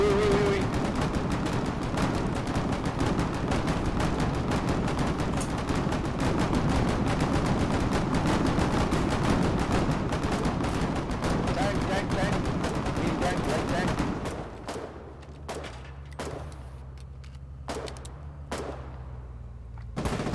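Machine gun firing at a tank in the video game Foxhole: rapid sustained bursts of automatic gunfire for about fourteen seconds, then a few scattered isolated shots over a low engine hum.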